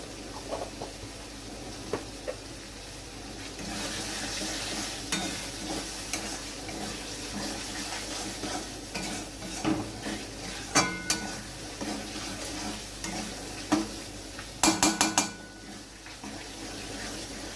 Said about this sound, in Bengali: সয়াবিনটা দিয়ে আমি খুব ভালোভাবে খুন্তি দিয়ে নেড়ে নিলাম